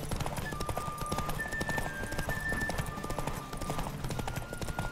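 Galloping horse in The Witcher 3, a steady drumming of hooves close and loud, with a high ringing tone and distant voices mixed in.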